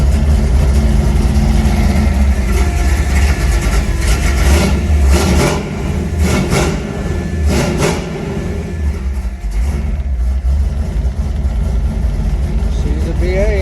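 A 1965 Ford with an FE 390 big-block engine idles after a cold start, a loud, steady, low rumble with a few throttle blips in the middle. Someone talks over it at times.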